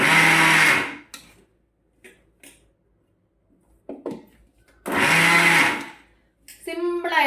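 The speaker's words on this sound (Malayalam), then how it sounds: "മിക്സിയിലൊന്ന് അടിച്ചെടുക്കാം." Kitchen mixer grinder blending wheat puttu dough mixed with cooked rice: two loud, close whirring bursts of under a second each, separated by quiet, followed by brief speech.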